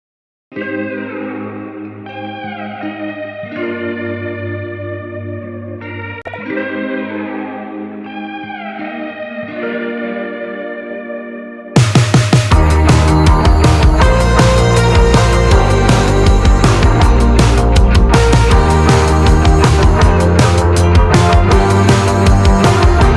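Playback of a recorded song: a sparse, echo-heavy synth or guitar intro breaks into a dense, loud full-band section about halfway through, with no talking over it.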